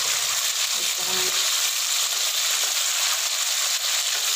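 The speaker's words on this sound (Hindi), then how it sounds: "साइड पे करके अच्छी तरह से फ्राई कर लेंगे" Chicken karahi frying in a pan, a steady broadband sizzle filling the whole clip at an even, close level with a faint clink near the start.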